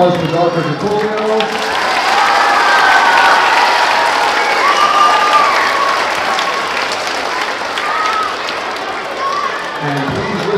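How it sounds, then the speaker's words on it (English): Enthusiastic audience clapping at an elementary school band day fills the room, a thick continuous roar of hands rising and holding, then fading as speech resumes briefly at the close. "One more round of applause"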